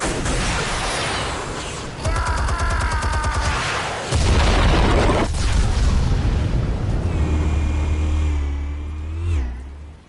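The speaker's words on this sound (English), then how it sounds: "Explosives armed. Fire when ready." Explosives detonate in Batman: The Telltale Series, giving several loud, heavy booms with deep rumbling blasts. Tonal whines and mechanical clatter sound between them, and the roar fades out at the end.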